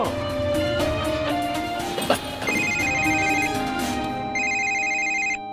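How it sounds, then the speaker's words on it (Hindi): A phone ringtone plays a repeating melodic tune for several seconds, fairly close, over faint background music, then cuts off abruptly. "मिसर जी का फोन, पता नहीं क्या खबर देंगे।"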